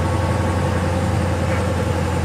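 A 2013 Ram 1500 Big Horn pickup truck engine, just remote-started, idles nearby with a steady, low rumbling drone and no other sounds.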